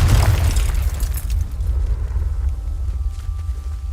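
Confringo fire spell detonating in Hogwarts Legacy, a deep rumbling explosion that hits hardest at the start and then churns on as a low, sustained roar, with a faint tonal hum creeping in near the end.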